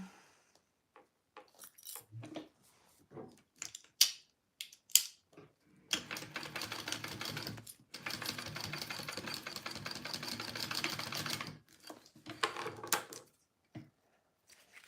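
Sewing machine stitching along the seam allowance of a Joey Pouch, starting after a few short clicks and handling noises, then running in two steady bursts of mechanical whirring, close and moderately loud, with brief pauses.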